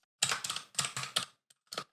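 Code being typed on a computer keyboard while writing a React component: quick clusters of clattering keystrokes close by with short pauses between bursts, no talking.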